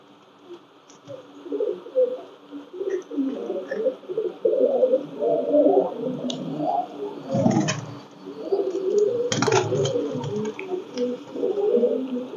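Pakistani Teddy pigeons coo in soft, repeated, throaty phrases close by, overlapping one another at a steady pace, with a few brief rustles and flutters mixed in.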